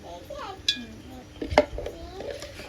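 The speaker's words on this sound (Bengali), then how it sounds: "ঘিটা আমি ভালো করে পক্ষ মিশিয়ে নিলাম" Ghee being mixed into cooked rice in a cooking pot for chhana (paneer) biryani, heard as scattered scrapes and a couple of sharp metallic clinks of a spoon against the pot, with faint background voices.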